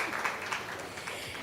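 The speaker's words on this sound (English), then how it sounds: "Come on, round of applause for them, please." A conference audience at a media industry event gives a brief round of applause for panelists, with soft, scattered clapping lasting just over a second.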